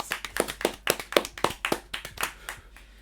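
A small audience claps in a brief burst of sharp, close hand claps, around a dozen uneven strikes that thin out and fade after about three seconds, with no talk.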